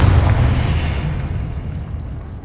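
A Confringo blasting spell explodes in a wizarding video game, a loud, deep rumbling boom that starts at full force and slowly fades over a couple of seconds.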